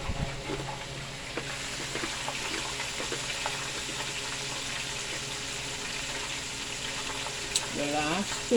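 Chicken frying in a fryer of oil for Escovitch fried chicken, a soft continuous sizzle and crackle at moderate distance, fairly quiet and steady throughout, with a brief faint tonal sound near the end.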